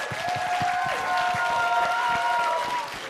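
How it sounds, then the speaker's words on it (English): Applause and scattered cheering from a crowd at a boxing press conference and weigh-in, a steady dense clatter of clapping that runs loud for about three seconds before easing off. "we gotta give a huge round of applause for Ian for making this thing happen"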